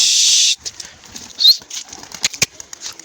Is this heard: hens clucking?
no